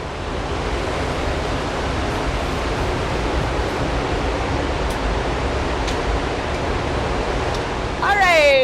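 A waterfall in a North Carolina temperate rainforest roars steadily, filling the air with a loud, unbroken rush of falling water, heard close with a brief sharper sound at the very end.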